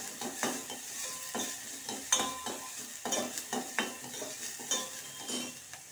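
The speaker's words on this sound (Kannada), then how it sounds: "ನೋಡಿ ಇವಾಗ ಈರುಳ್ಳಿನ ಒಂದು ಸ್ಮಾಲ್ ಈರುಳ್ಳಿನ ಬಾಡ್ಸ್ಕೊಂಬೋಣ" A small onion sautés in ghee with a continuous soft sizzle, broken by repeated scraping stirs of a spoon against the pan at an uneven rhythm, close and moderately quiet.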